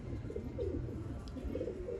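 A pigeon from a Sialkoti flock cooing softly, low throaty coos rising and falling close by over a quiet background.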